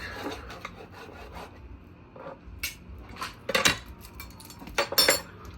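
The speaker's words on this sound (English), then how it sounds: "I'll just do a vertical cut or parallel" A knife saws through marinated steak meat for a cheesesteak on a board, giving scattered rasping strokes and scrapes that grow into sharper clustered cuts, close up and without talk.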